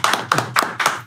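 A few people clap for a new podcast sponsor, four quick bursts of hand claps close to the mic in about one second, with no talk over them.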